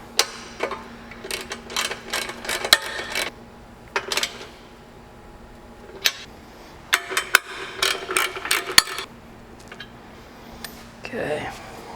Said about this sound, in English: flip to our 9/16. We'll tighten these two bottom bolts.